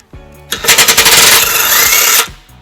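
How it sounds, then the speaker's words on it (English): Impact wrench with a 17mm socket loosening a bumper beam nut on a 2019 Subaru Ascent: a loud, close, rattling burst with rapid hammering pulses, about two seconds long, then stopping. "And we're going to remove those using a 17mm socket"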